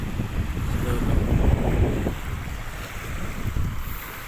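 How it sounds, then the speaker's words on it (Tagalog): Steady blustery wind buffeting the microphone by the sea at Manila Bay, with a low rumbling roar and faint wash of surf, no voices. "Ang lamig ng simoy ng hangin kahit sa tabing dagat tayo."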